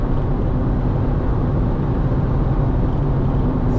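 A 2023 Fiat Pulse Audace with a 1.0 turbo engine accelerates on a highway, giving a constant, loud roar of engine and road noise that stays even from start to finish.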